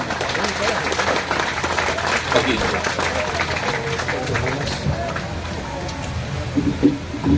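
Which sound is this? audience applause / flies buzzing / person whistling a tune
audience applause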